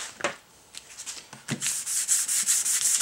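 Plastic pickguard sheets, white and black laminate for a Les Paul Junior style guitar, being scuffed with abrasive before super gluing: quick close rubbing strokes that build into a steady, brighter sanding rasp.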